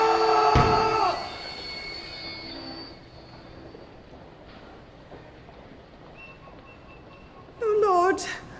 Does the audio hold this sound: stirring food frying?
no